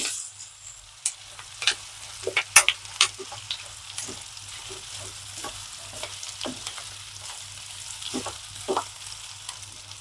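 Plantain pieces sizzle softly in a pan while a spatula scrapes and taps at irregular intervals, close and fairly quiet, with a low hum underneath.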